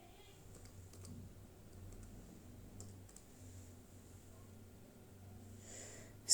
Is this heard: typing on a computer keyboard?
yes